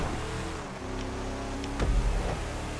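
A steady engine drone with a low rumbling surge near the end as a car accelerates in Grand Theft Auto custom races, with no voices.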